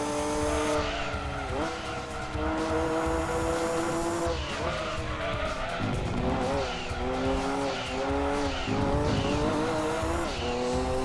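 Race car engines in Gran Turismo 2 scream at high revs, the pitch rising and dropping through gear changes while tires squeal repeatedly through corners, loud and continuous with no talking.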